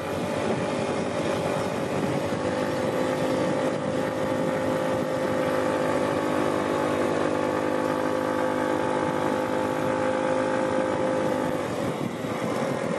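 A motorbike engine strains steadily uphill on the main road of Koh Chang, Thailand, carrying two riders; a constant droning hum with wind rush, close and unbroken throughout, no voices.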